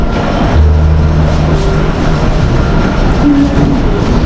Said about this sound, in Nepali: अब हामी फेरि ट्रेन चढ्ने हो